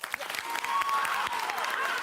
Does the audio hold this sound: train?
no